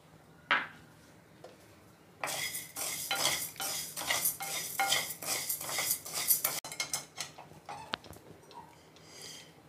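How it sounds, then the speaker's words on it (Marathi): Chana dal, jowar and bajra grains dry-roasting in a pan for thalipeeth bhajani, a brief scrape near the start, then a long run of dense rattling stirs and scraping strokes, close and fairly loud, with no talk. "ज्वारी, बाजरी, चणा डाळ असं आपण भाजून घेतलं."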